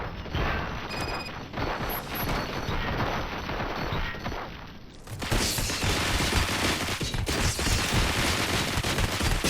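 Video game gunfire keeps going as a dense, continuous rattle of shots, close and loud, and it grows heavier and fuller about halfway through.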